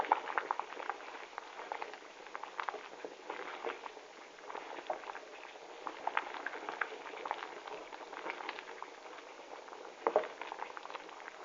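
Lentil soup simmering in a pan with pepper seasoning, a steady soft bubbling patter throughout with a brief louder clink near the end, no voices.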